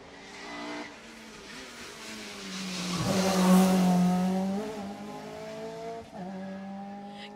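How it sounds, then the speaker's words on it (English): A rally car on a closed stage of the Jersey Rally approaches, its engine note rising steadily to a loud pass with revving and a brief tire squeal, then easing off as it continues away. "Next car's approaching now."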